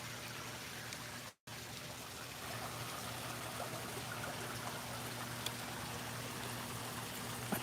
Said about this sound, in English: they got the waterfall popping